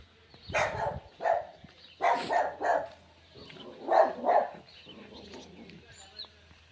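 Several short dog barks in quick bursts at a moderate distance, separated by pauses, with faint birds and background hum.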